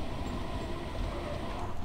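Tube train running in the Train Sim World 2 video game, a steady low rumble and rolling drone, close and continuous with no talk.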